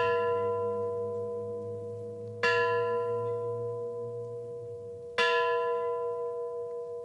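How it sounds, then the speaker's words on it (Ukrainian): A deep memorial bell over the Chernobyl heroes' mound tolls twice, each stroke ringing out with a long humming decay, steady and resonant with no voices. "дзвін над курганом героїв Чорнобиля пролунав"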